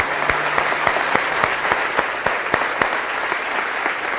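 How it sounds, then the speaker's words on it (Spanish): Church congregation applauding together, a dense steady wash of many hands clapping with a few sharper individual claps standing out, sustained at even loudness throughout without talk. "Un aplauso al Señor."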